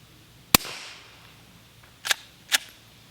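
Three sharp suppressed pistol shots from a Rev 9K fitted with a Griffin Armament suppressor and flash hider front cap: one crack, then a pause, then two more close together, each dry and snappy outdoors.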